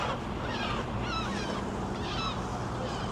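Seagulls call repeatedly in short, harsh cries over steady outdoor wind and traffic noise during an evening walk in Blackpool, the calls moderately distant and scattered across the moment.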